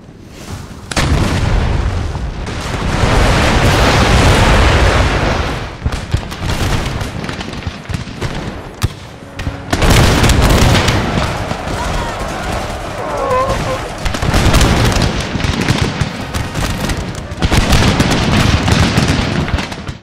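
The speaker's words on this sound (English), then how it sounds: "the new Ottoman organ cannons, an absolutely devastating weapon in the field" In a Total War battle, Ottoman organ cannons fire rolling volleys of booming, crackling blasts in repeated loud bursts, with short pauses between the barrages and narration running over them.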